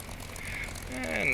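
Simulated P-51 Mustang piston engine in Digital Combat Simulator, a steady droning hum that swells slightly louder toward the end, with a voice briefly audible over it.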